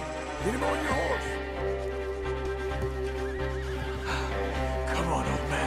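A horse neighs and whinnies in Red Dead Redemption 2, with clip-clop hooves and a steady game score underneath. Gameplay music and rumble fill the background.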